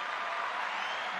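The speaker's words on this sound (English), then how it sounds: "She deserves a round of applause for that." A short burst of steady applause from a crowd in the video game Genshin Impact, even and continuous, with no voices over it.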